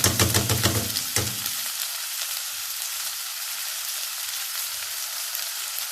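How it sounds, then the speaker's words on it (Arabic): Tomato-based food frying in a pan, a steady close sizzle with stirring scrapes and clatter in the first seconds before settling into continuous frying hiss. "دلوقتي هديها تقليبه."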